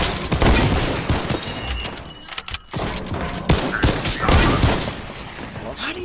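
Laser tag guns firing rapidly during a free-for-all match, dense bursts of loud electronic shots and thumps crowding together, with brief lulls between volleys.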